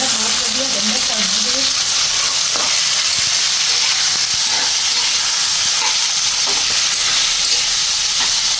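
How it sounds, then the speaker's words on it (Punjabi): Onions sizzle and hiss steadily in a hot pan while cooking a bhindi (okra) sabzi, a constant frying crackle alone throughout with a few faint utensil taps. "ਦੂਸਰੀ ਸਾਈਡ ਪਿਆਜ਼ ਤੁਸੀਂ ਦੇਖ ਸਕਦੇ ਥੋੜਾ ਸੇਕ ਲੱਗ ਗਿਆ ਹੈ"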